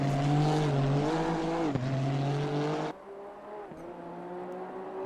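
Honda NSX Evo GT3 race car in Assetto Corsa Competizione at Zandvoort, a steady loud engine drone with rising and falling pitch through gear changes, dropping abruptly quieter partway as the car lifts or shifts, no talk.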